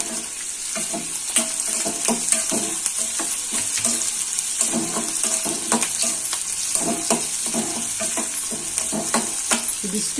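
Spices and dried red chillies fry in hot oil with a loud, steady sizzle, and frequent scraping stirs of a spoon in the pan run through it. No one speaks.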